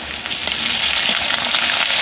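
Ginger paste sizzling in hot oil with garlic already browned in the pan, cooking for a fish kalia; a steady close hiss of frying with light crackle throughout, no voices.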